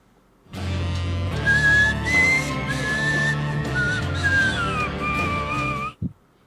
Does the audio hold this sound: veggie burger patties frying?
no